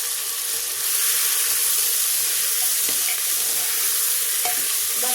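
Goat legs frying in a pan with turmeric while being stirred, with a steady loud sizzle, occasional scraping stir strokes and clinks throughout, and no talking.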